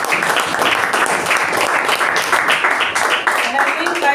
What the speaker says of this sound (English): Please give a huge round of applause for our Toastmaster of the day,